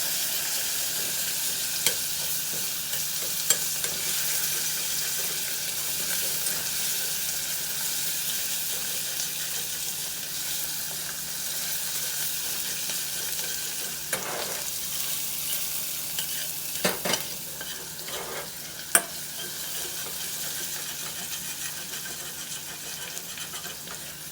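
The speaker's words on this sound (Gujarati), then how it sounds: "આદુને છીણીને રાખીશું બધું સાંતળી લેવાનું એને" Grated ginger and spices sautéing in a pan for vada pav: a continuous soft sizzle with occasional spoon scrapes and stirring knocks, steady throughout and unaccompanied by speech.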